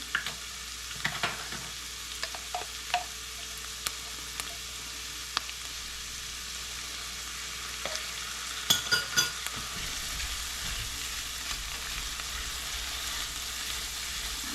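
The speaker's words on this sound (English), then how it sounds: "I'm gonna put a little bit of minced garlic in here." Minced garlic sizzles in a pot as a cabbage soup base begins. A steady, close frying hiss runs throughout, broken by scattered clicks and a brief cluster of utensil knocks near the middle, with no talk.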